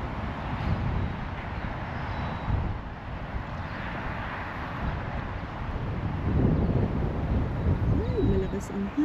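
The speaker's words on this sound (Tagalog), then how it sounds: "Malakas ang hangin," Strong wind buffets a microphone outdoors near a war memorial library in Hutt, New Zealand, producing a continuous low rumbling roar with gusty surges while someone talks over it.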